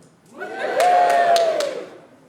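Studio crowd at a late-night news show giving a short, loud cheer with whoops and a few sharp claps, rising quickly, holding about a second, then fading away.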